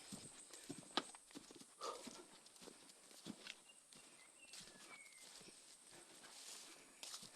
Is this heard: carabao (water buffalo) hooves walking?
yes